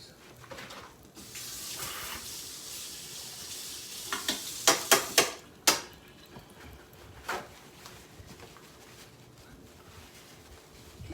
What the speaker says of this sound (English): These are clean. I just wanted to rinse them off.